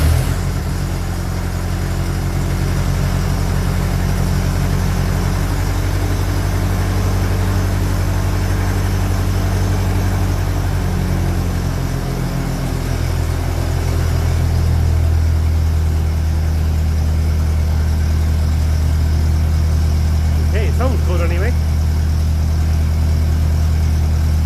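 A cold 1957 Ferguson 35 tractor running on TVO ticks over at a steady idle, its low, continuous engine rumble close and loud throughout, with a slight shift in tone partway through.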